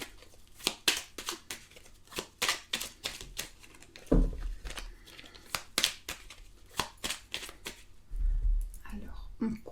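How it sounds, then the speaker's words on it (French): A deck of tarot cards being cut and shuffled, with rapid papery flicks and riffles in quick bursts, close up, plus a couple of soft thumps as the cards are handled. "Alors, on coupe et on va prendre quelques cartes."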